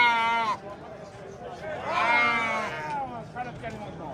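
Sheep at a livestock market give several loud, close bleats, one short and one long and wavering, with fainter bleats behind them. The pen noise goes on throughout.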